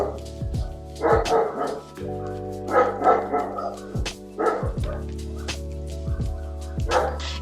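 Dogs bark in repeated bursts, about five or six clustered volleys spaced across the span, fairly close and loud over a sustained low musical drone, with no talking.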